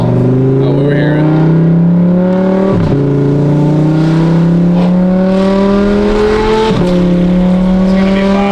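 An Audi R8 with a loud exhaust and a pop-and-bang tune revs hard in repeated rising sweeps, each ending in a sharp drop with crackles, very loud and close. A voice talks over it.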